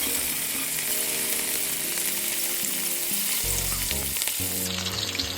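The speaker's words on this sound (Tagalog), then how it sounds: "Ang sikreto sa pagprito ani, nating nipilit pag gani ang isda sa kaha, ayaw sa nimi baliha." Fish sizzles steadily in a pan of hot oil for a Boholano-style sweet and sour escabeche, a loud, constant, close crackling hiss with occasional spattering and no talk.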